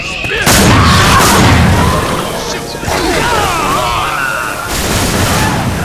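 Gunfire in the video game Left 4 Dead 2 booms and bursts loudly and almost nonstop, with game voices and player talk mixed into the heavy shooting.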